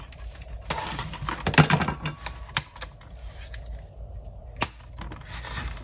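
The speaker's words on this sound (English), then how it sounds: "No, I'm gonna use my cutter. I want it to be nice and straight." Paper being trimmed with a paper cutter while crafting a journal: a run of sharp, crisp slicing and clicking strokes, close and fairly loud, with brief quiet gaps between cuts.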